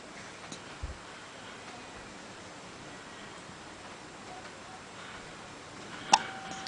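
A baby hiccups twice, with a short, soft hiccup early on and a sharper one near the end, against a faint, quiet background hiss.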